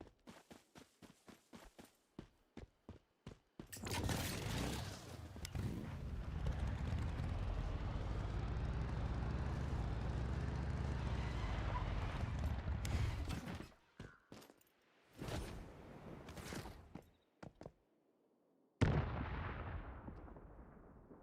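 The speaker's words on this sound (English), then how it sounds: "They're gonna make for an even bigger explosion." Oil barrels blowing up in the video game Once Human: a run of sharp gunshot-like pops, then a long roaring explosion with rumbling debris for about ten seconds, followed by more bursts and a final loud blast fading out.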